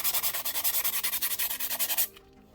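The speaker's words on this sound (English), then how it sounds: "rub across the edge there to get rid of the sharpness" A 180-grit nail file is rubbed quickly back and forth across a nail edge, a close, rapid, even rasping of about twenty strokes that stops abruptly into near silence.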